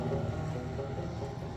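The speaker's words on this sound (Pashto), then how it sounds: "نو دغه د کښتۍ مو راوغوښتله" A boat on the Helmand River at Kajaki Dam, its engine giving a steady, fairly loud low drone and hum throughout, mixed with some wind rush, with no talking.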